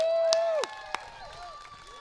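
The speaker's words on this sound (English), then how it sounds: "Give him another big round of applause." A crowd at a Republican rally outside a courthouse cheers and claps, with sharp whoops and scattered applause fading within two seconds.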